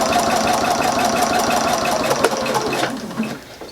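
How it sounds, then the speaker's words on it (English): Sewing machine stitching a fabric binding strip, a rapid, steady mechanical whirr with fine rhythmic ticking up close, running continuously before slowing and stopping near the end. "So I'll load it up here on the machine. And I'll just take my time sewing all the way across."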